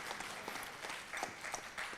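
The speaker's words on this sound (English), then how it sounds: "Please also give them a round of applause." Brief, faint round of applause from a seated audience at a classical Indian dance debut recital, a soft continuous patter of many hands lasting about two seconds.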